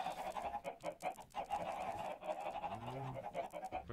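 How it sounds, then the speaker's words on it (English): Chickens and other fowl clucking close by, with a short honking call standing out near the end over a steady, noisy outdoor background. "The chickens"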